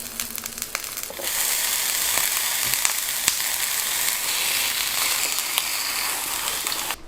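Breaded eggplant rings fry in a pan on low heat, a dense bright sizzle that swells in after a second and holds steady with occasional pops and crackles, close up and free of talk.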